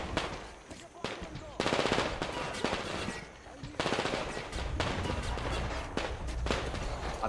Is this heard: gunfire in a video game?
yes